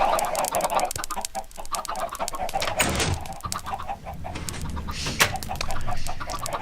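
Chickens cluck repeatedly in a Minecraft world, steady layered clucking and short bird calls running throughout at moderate loudness with no talk.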